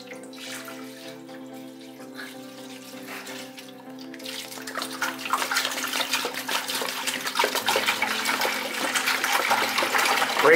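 A pump fills a hydroponic lettuce farm setup with water. A quiet tonal hum comes first, then a growing rush and splash of running water that gets steadily louder toward the end.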